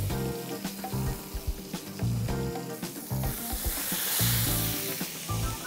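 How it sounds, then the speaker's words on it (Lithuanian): Steaks sizzle and spit in a very hot, oiled frying pan, a constant crackling hiss with sharp pops and occasional clatter, close and loud with no talking. "Steikus jau dėjome į keptuvę ir dabar mažiausiai porą minučių mes kepame vieną pusę, visiškai jų neliesdami"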